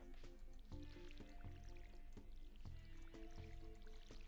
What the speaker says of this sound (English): Why did I water an already watered plant?